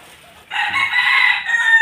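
A white Kelso rooster crows close by, one loud, bright call starting after a brief quiet moment and sustained to the end.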